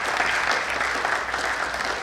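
Steady applause from an audience at a formal address ceremony, dense and continuous clapping throughout without a break, moderately loud and even in level.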